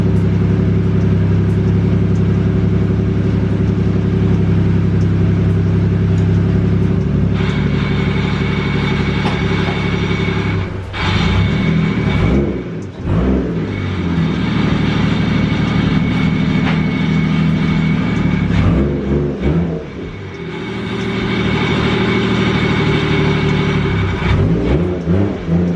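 A Toyota Mark II JZX100 with a swapped R154 manual gearbox runs loudly close by, its engine droning steadily while the car pulls forward, backs up and moves forward again, with a few brief dips and surges in revs.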